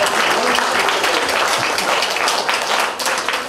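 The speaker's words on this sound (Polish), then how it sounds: "wielkie, ogromne brawa, oklaszcie podium małej Wielkanocy" Applause from a festival crowd at the Mała Wielkanoc event in Lubawka, a loud, dense burst of many hands clapping continuously for the podium with no break.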